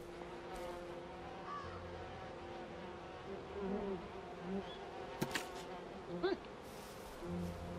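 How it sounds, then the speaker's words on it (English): Bees buzz steadily in the video game We Happy Few, a faint continuous drone with occasional brief chirps and clicks over it. "Look, bees."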